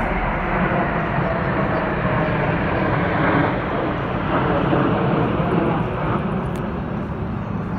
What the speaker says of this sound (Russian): Но в это время смотрим, как самолеты летят.